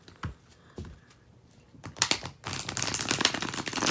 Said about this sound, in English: Let me shuffle the deck real quick.